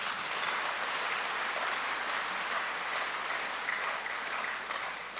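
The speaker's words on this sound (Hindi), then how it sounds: "जोर से ताली बजाओ।" An audience claps continuously at a spiritual gathering, a steady, even wash of applause heard from a moderate distance, tapering slightly at the end.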